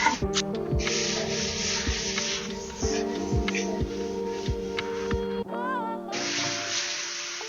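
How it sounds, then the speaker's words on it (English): 80-grit sandpaper is rubbed lightly over a painted scrap piece of steel, giving a steady, close scratchy hiss that briefly stops near the end before resuming, with a low background hum and no talk. "I'm just going to take some 80 grit on just a scrap piece of steel and just rub it over extremely lightly just to take the paint off the highs."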